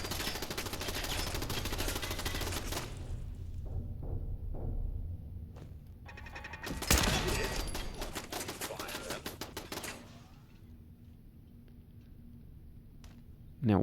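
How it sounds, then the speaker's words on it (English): Automatic gunfire crackles in a Fallout 4 firefight, rapid bursts of shots at the start and again in a dense volley midway, with quieter gaps and thuds between, loud and close. "Now, what else is shooting at us?"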